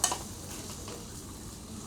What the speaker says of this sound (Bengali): এই যে ডিম ভাজা প্রায় শেষের দিকে